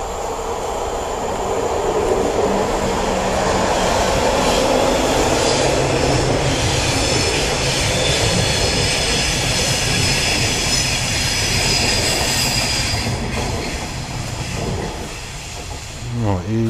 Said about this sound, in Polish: Teraz nic nie będę mówił, bo pociąg wjedzie.